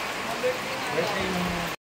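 Heavy typhoon rain pours steadily at a lighthouse, a dense, loud wash that runs almost unbroken before cutting out abruptly near the end.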